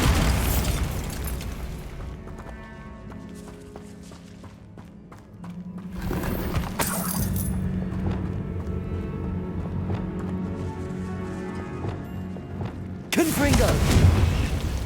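Bombarda spell explosions in the Hogwarts Legacy video game, a series of loud booming blasts with crackling debris and rumble, bursting again near the end amid game music and effects.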